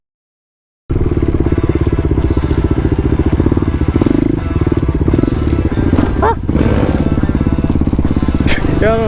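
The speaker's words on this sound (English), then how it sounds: "There goes the KTM." A KTM motorcycle engine runs loud and close with a steady buzzing drone that stays constant throughout, with brief clatters and light voices underneath.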